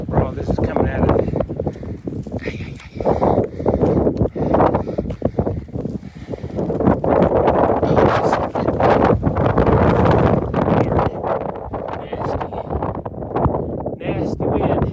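Strong hurricane wind buffeting an outdoor microphone during rockhounding along a rocky coast, loud roaring gusts rising and falling, with someone talking intermittently over it.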